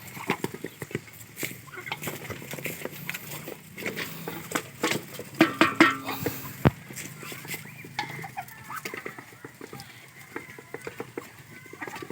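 Muscovy ducks quacking and clucking in bursts around feeding, with scattered clicks and knocks, moderately close, busiest in the middle.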